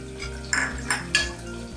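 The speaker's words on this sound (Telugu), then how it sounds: "కరివేపాకు కూడా వేసుకొని కలుపుకోవాలి." Curry leaves are stirred in hot oil in a metal pan while cooking a cabbage and chana dal curry, giving three short scraping clinks of the spoon against the pan over a soft, steady sizzle.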